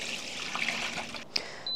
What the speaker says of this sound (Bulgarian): Сипвам водата в тенджера,